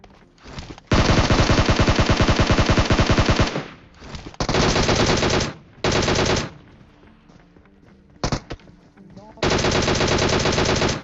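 Video game shooter gunfire: long bursts of loud, rapid automatic fire that stop and start in several close-range volleys, with brief quiet gaps between them.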